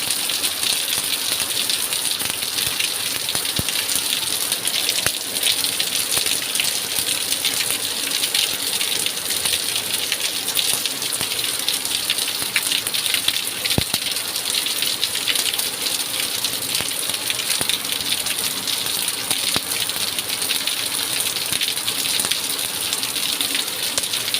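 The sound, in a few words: morning rain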